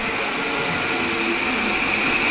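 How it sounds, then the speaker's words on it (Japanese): A JR E235 series Yokosuka Line train departs Zushi station, giving a steady, loud rail rumble with a sustained high-pitched whine running throughout, with no voices. "順調に逗子の駅を出ていきました。"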